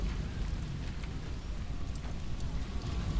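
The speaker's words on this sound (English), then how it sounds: "It's raining, man." Rain falling in the video game Tropico 4, a steady soft hiss of rainfall with low rumbling underneath, continuous and unbroken with no voices.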